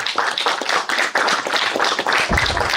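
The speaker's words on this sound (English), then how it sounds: "Let's give a round of applause as he comes onto the stage." A small group at a youth conference claps steadily and briskly for a few seconds as a speaker comes onstage, the hand claps close and dense without cheering.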